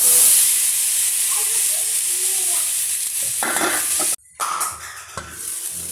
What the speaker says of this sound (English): So here is the green peas. I allowed it to cook in low flame for about 4-5 minutes.